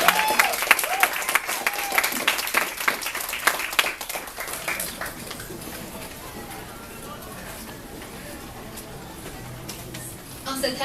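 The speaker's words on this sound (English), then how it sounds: "Please give a great round of applause to welcome Claire Liu, Homeward." Audience applause welcoming a speaker at a university Toastmasters club meeting: dense clapping with a few voices for about four seconds, then fading into quiet room noise, with a brief clap-like sound near the end.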